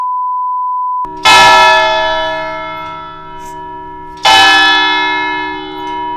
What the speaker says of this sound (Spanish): Queríamos bajar antes de que suene la campana porque iba a sonar fuerte.